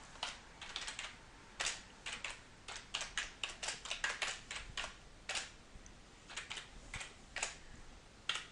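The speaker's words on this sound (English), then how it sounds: "start typing." Typing on a computer keyboard, quiet and close, with irregular bursts of key clicks and short pauses between runs of keystrokes, no talking over it.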